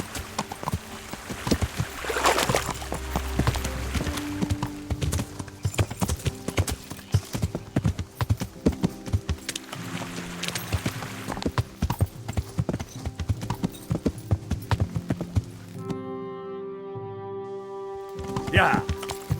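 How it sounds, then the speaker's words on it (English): Horse hooves clip-clop steadily through a stream in Kingdom Come: Deliverance, a continuous near rhythm of beats mixed with game ambience and low music, with faint talk over it. "It's hard to ride a horse down a stream."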